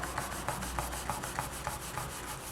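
A polymer clay leaf pendant is rubbed with 600 grit sandpaper in quick, regular back-and-forth strokes, each pass a soft close scratchy swish, repeating about four times a second with no talking.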